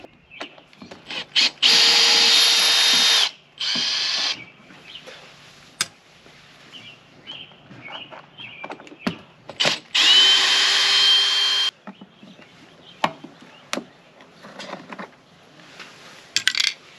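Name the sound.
power drill removing screws from car door panel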